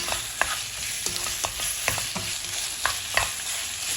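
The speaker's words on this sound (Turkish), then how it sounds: "Şimdi bunu güzelce soğanlarla beraber soteleyeceğim" Boneless chicken thighs sauté with onions in a pan, a steady low sizzle underneath occasional clicks and scrapes from stirring, close by and with no talking.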